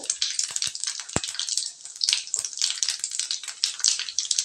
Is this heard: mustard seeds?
yes